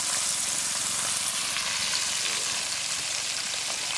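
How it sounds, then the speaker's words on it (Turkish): Steady, crackling sizzle of fish frying in hot oil in a pan outdoors in a forest, continuous and close, with no talking. "Tavada böyle kıpkırmızı kızartıyoruz"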